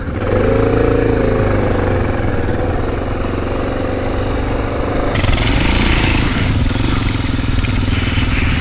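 A Honda XR650L adventure-build motorcycle rides Wisconsin single track, its single-cylinder engine droning loud and close with steady throttle, rough chugging and brief revs over the whole stretch.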